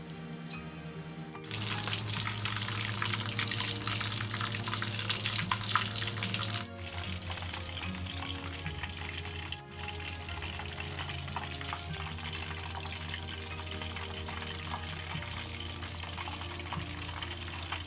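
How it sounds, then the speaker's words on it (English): Battered fish frying in hot oil, a steady crackling sizzle that swells louder early on, then settles into a continuous bubbling hiss, close and alone without talk. "Now it's time to fry it,"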